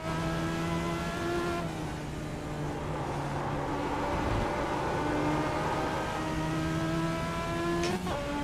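A race car at speed during a qualifying lap on a track, engine droning steadily and loud with shifting pitch, close and continuous throughout.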